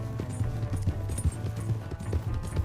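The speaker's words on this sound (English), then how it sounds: "O cavalo vai dar conta de correr muito não, mano" A horse gallops in Red Dead Redemption 2, its hooves giving a steady, quick clip-clop close at hand over a low background rumble.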